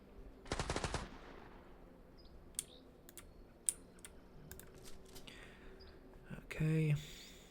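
A light machine gun fires a short rapid burst in the Second Front war game, followed by scattered mouse and keyboard clicks, distant single shots and interface blips, with a louder low burst near the end.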